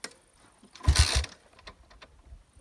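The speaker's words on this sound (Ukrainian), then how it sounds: "Кікстартер, кстати, дай я попробую скільки завести." A BSE 250 J3D motorcycle being kick-started, with a short loud burst of the engine catching briefly before dying back to quiet, followed by a few faint knocks and rattles.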